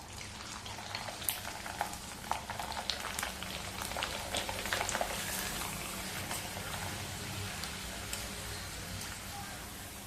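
A Rajasthani maida khichiya papad fries in hot oil, giving a continuous soft sizzle and bubbling with scattered sharper pops and crackles, close and fairly quiet.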